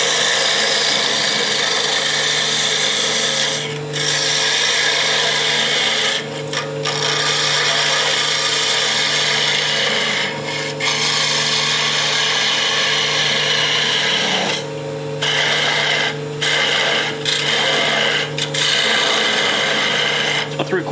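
A woodturning gouge cuts the end grain of a goblet spinning on a lathe, undercutting a cove at the base. A steady, continuous rasping scrape runs throughout with the lathe's motor hum beneath, broken by brief pauses.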